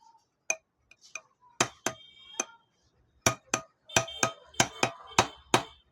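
A bike's front fork oil seal is driven in with a series of sharp metallic taps, about fifteen hits. They come irregularly at first, then in a quicker, steadier run, close up with quiet gaps between.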